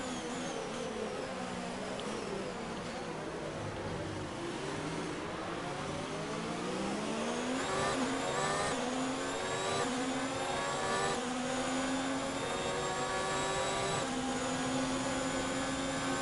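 Race car engine in a racing video game, slipstreaming behind other cars: a steady, loud droning whine that rises and shifts in pitch with gear changes and overlapping engines, continuous throughout with no talking.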